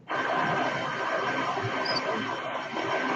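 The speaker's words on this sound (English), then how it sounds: "Sounds like a vacuum cleaner's going on in the background." A vacuum cleaner runs in the background, a steady, even whooshing drone that starts abruptly and holds without a break, with faint voices present.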